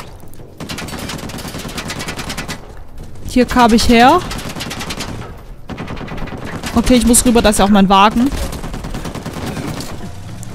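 Enemy gunfire in the PS4 game Uncharted 4, heard as bursts of shots under a continuous game soundscape, with someone talking in German over them.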